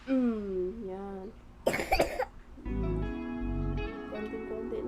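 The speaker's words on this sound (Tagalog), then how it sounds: "Malambot na yung ubo." A child coughs in a home while taking a malunggay and kalamansi remedy for cough and cold: one brief burst of close, loud coughs in the middle, framed by voiced sounds before and after.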